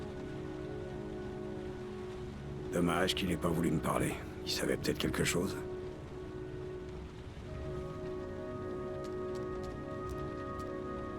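Steady rain falls in the video game Heavy Rain, a constant soft hiss and patter under a stretch of French talk, continuing alone afterward.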